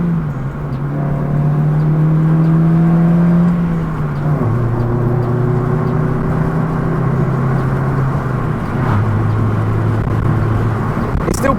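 A Vauxhall Corsa first car accelerating with the window down, its engine note climbing steadily through gears with a drop at each shift, loud and continuous with road and wind rush, no talk.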